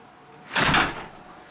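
A door fitted with a self-closing hinge swings open and shut, giving a single brief, fairly close rush of movement that rises and fades within about half a second.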